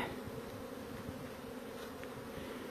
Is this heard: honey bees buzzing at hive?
yes